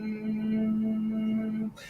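A voice imitating a calm idling motor, one steady low hum held for under two seconds, close and quiet, ending abruptly.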